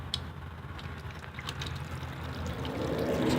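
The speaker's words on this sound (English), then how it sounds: "it's primed and it's just sucking and siphoning that out of the tank, again rinsing your system" A 12-volt soft wash pump siphons rinse water out of its tank, giving a steady rushing, gurgling flow of water that slowly grows louder, with no talking.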